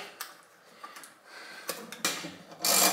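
Cutting into the casing of a LiFePO4 battery gives irregular scraping and rasping strokes, close up, with scattered clicks and a louder grinding rasp toward the end.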